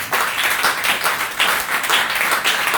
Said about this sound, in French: Je voulais qu'on acclame le Seigneur.